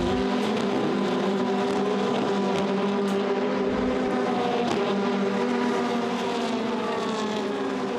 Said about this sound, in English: And we have a spin.